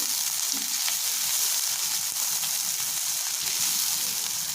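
Onions sizzle steadily in hot mustard oil as they are stirred in a pan, a dense, continuous close-up crackle with no pauses or voices.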